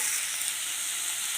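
Beef fry with green chillies, garlic and salt sizzling hard in a hot pan while being stirred, a dense, loud, continuous hiss heard up close.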